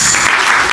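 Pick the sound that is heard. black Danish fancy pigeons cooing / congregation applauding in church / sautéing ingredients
congregation applauding in church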